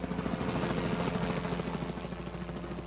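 A helicopter flies over a landslide-damaged stretch of Highway 4 on the Youbou detour, its rotor thudding in a steady, fairly loud, near drone for about three seconds with no talking.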